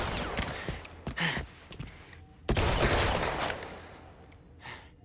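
Bursts of gunfire in the video game 007 First Light, several sharp volleys crackling in quick succession and then a longer heavy barrage that fades out, with no talk.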